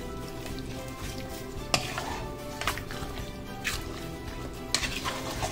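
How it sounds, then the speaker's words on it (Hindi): Mutton stew being stirred in a pot on the stove, a steady scraping and sloshing bed with a few sharper clinks of the spoon against the pot, close and continuous. "और अब इसको एक दफ़ा मिक्स करके"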